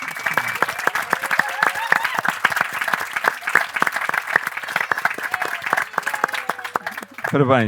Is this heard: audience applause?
yes